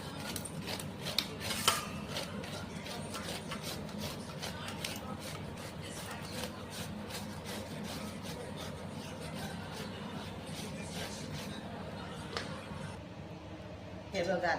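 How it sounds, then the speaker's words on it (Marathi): Ripe mangoes grated by hand in a home kitchen, a steady continuous rasping scrape running throughout, close and moderately quiet with faint background noise. "बघा आता आंबे मी किसून घेते."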